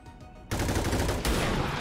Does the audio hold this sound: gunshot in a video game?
yes